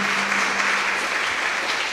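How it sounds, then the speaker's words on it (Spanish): A church congregation applauds in a dense, even wash of clapping that holds steady and loud throughout, with no voices over it. "dele un fuerte aplauso al Señor"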